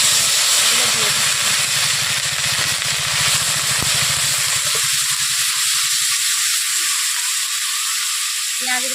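Grated onion, tomato, ginger and garlic hit hot oil in a pan for a fish curry, giving a loud, steady steamy hiss with a low rattling texture that thins out and quiets in the latter part.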